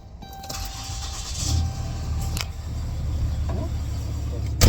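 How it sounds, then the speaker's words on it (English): A Ram 3500 pickup cranks and fires up close by, its low engine rumble building and then settling into a steady idle that holds to the end, with a faint voice briefly audible. "Turn on the truck real quick."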